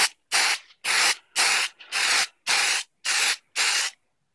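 Valspar High Gloss Lacquer sprayed from a can onto a Stormtrooper mask in eight short, even bursts of close, loud hiss separated by brief pauses, with no talking.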